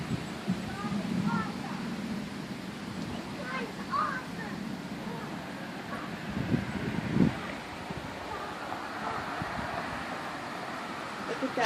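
Wind blows outdoors ahead of a forming thunderstorm, a steady broad rushing with gusty rumbles against the microphone, while people talk faintly in the background.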